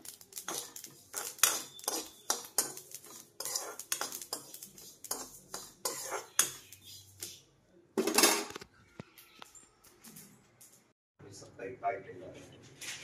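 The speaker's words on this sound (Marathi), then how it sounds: "मी असे मस्त हे तीळ भाजून घेते आणि असं बारीक वाटून घेते" Sesame seeds are roasted in a pan at home, giving a busy string of clinks, scrapes and light metallic taps with brief pauses between, while a person keeps talking underneath.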